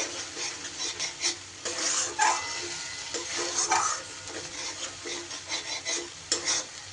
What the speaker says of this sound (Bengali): এবার মশলা খুব ভালো করে কষিয়ে নেব যতক্ষণ না তেল ছাড়ছে